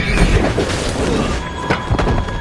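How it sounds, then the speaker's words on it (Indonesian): A sniper rifle gunshot in a war film at a border battle, a heavy booming blast with rumbling echo and a second sharp crack near the end. "langsung melepaskan sebuah tembakan jitu"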